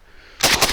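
Century Arms Draco AK-pattern pistol firing, a quiet lull broken by a loud close burst of rapid shots that rings on to the end.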